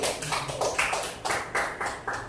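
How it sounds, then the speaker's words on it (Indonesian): A small group at a school session in SMP N 2 Banyuasin III gives a short round of claps for Pak Doni, heard as a handful of distinct, fairly close bursts in uneven rhythm. "Beri tepuk tangan dulu buat Pak Doni"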